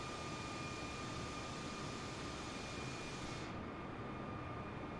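Aircraft engine noise from a flight simulator game, with the airliner flying a route from KCLT to TXKF on flaps 1, heard as a steady, even jet drone and hum with no voices over it.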